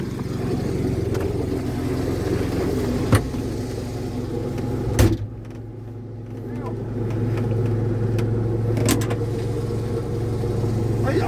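A 1971 Fiat 500L drives along with its small engine droning steadily, a loud continuous rumble inside the car with a couple of brief knocks.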